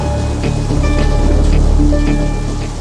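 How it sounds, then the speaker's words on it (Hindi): Steady, heavy rain falls in a scene from a South Indian film dubbed into Hindi, a loud continuous wash of noise with no talk over it. "ऐसी ही बारिश हो रही थी।"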